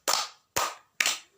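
Three sharp, evenly spaced hand claps ring out in a classroom clapping ice-breaker, each a crisp, loud slap with a short decaying tail, no voices.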